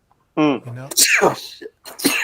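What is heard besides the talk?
sneeze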